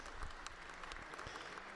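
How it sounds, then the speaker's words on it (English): A round of applause in the Vatican audience hall from senior officials of the Roman Curia welcoming the Pope, with continuous dense clapping from a large gathering that sounds distant and fairly faint. "warmly welcomed with a round of applause by the heads and senior officials of the various dicasteries of the Roman Curia"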